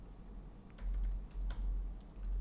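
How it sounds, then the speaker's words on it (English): Typing on a computer keyboard, a short quiet burst of a few soft, clicky keystrokes at an uneven pace over a low background hum. "I'm going to type in"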